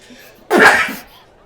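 A single loud, sharp sneeze bursts out close by, a quick explosive blast that fades within half a second against a quiet room.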